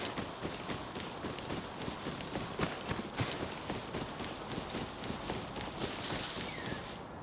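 Horse hooves clip-clop steadily through a run in the survival game Rust, a continuous rhythmic patter of close, moderately loud footfalls under ambient game noise.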